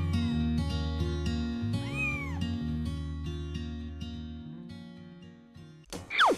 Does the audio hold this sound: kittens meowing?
yes